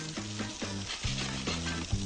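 Chicken fillet sears in a hot pan with a steady, close sizzle and a rhythmic pattern of stirring or scraping strokes, and no talking.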